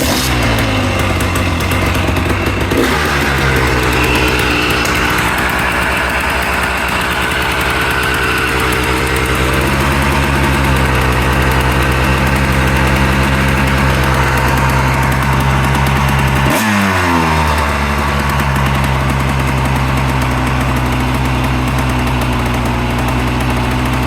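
A restored 1985 Honda ATC250R three-wheeler engine idles loud and close, a steady two-stroke burble with a few brief blips and dips in engine speed, with no voices.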